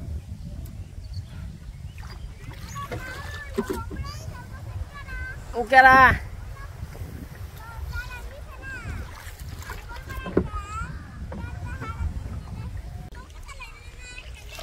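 A rowboat on a sunny village waterway swings around in the wind, with faint water and wind noise beneath near, continuous talking from several people, including a child.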